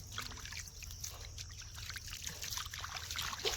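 Water trickles and splashes steadily as muddy hands are rinsed outdoors on a village farm after ploughing, a continuous soft sloshing with a low hum underneath.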